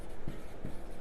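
Marker or chalk writes on a board during a Hindi-language English grammar lesson, making two quick, faint scratchy strokes over a steady room hiss.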